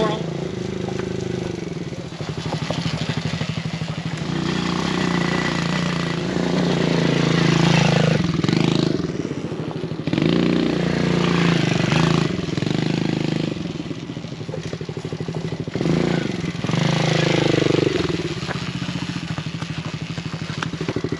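A CFMOTO C-Force 110cc youth ATV rides along forest trails, its small engine droning steadily with rising and falling revs and rattling clatter, close and continuous, with occasional voices.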